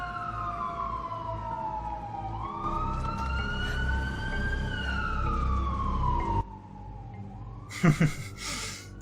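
A wailing emergency siren plays from a phone, rising and falling continuously over a rumbling background, with a short burst of clattering noise near the end.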